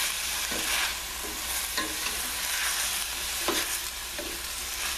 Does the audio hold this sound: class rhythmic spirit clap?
no